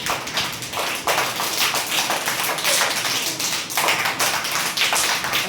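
Many hands clapping hard together in a rain-imitation game, a loud, full, continuous downpour of claps with brief swells, no voices.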